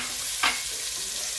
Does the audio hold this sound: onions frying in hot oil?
yes